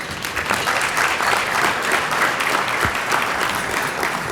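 Audience applause for scholarship recipients at the Louisiana Legislative Black Caucus Bayou Classic scholarship event, steady sustained clapping from a crowd, loud and even throughout.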